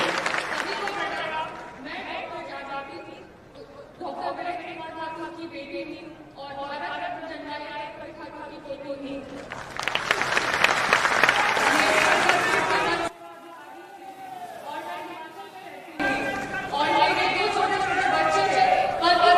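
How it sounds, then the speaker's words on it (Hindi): An audience applauds during a Jan Suraaj state-level workshop at Bapu Sabhagar hall in Patna: a dense, loud burst of clapping lasting a few seconds, set between stretches of amplified speech. "बस एक बार पहले जोरदार ताली से इसका स्वागत करें"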